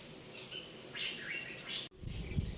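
A small bird that has fallen from its nest chirps in brief high tweets over a soft background hum, the calls close and fairly quiet with short pauses between them.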